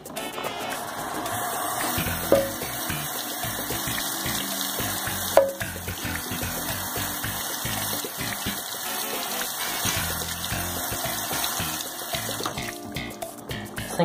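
Tap water gushing steadily into a bottle for a long stretch, with a couple of brief clunks partway through and no voices.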